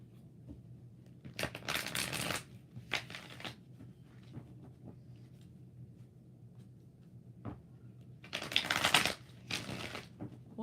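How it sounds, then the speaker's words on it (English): A tarot deck is shuffled in several brisk riffling bursts, close and fairly quiet, with pauses and faint handling sounds between them. "All right, 7 shuffles for G Baby."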